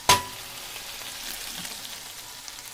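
Three chopped tomatoes dropped into a hot pan of frying pasta sauce, a sharp splash and hiss at first, then a steady soft sizzle close by.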